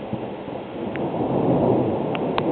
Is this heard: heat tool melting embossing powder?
no